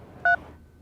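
A single short dual-tone telephone keypad beep, clear and brief, over faint background noise.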